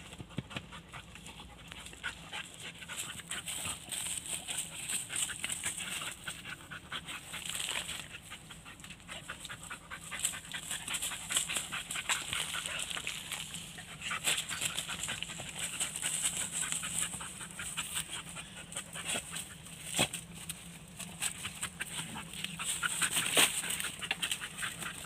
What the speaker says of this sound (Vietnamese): con chó này thì nó sẽ đuổi cho con chuột phải chạy